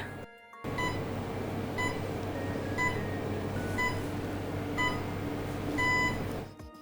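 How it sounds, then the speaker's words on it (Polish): Official Polish Radio time signal from a precise atomic clock: a series of short, evenly spaced electronic beeps about once per second, clear and moderately loud over a steady low hum of room or equipment noise. "W tym momencie został nadany sygnał czasu do Polskiego Radia"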